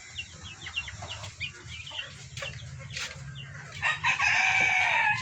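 Roosters kept in a cage crow and cluck at close range, with a run of short repeated clucks early on and a loud crow swelling toward the end over steady low background noise.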